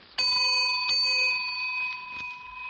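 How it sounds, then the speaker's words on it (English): A single bright bell strike opens the vintage Quiz Kids radio quiz show, ringing out clearly with a long metallic decay and a couple of lighter follow-up taps fading away. "There's the bell that calls this classroom of the air to order"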